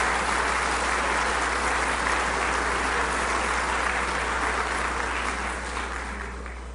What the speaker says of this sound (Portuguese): Queria pedir uma salva de palmas, porque é uma conquista fantástica.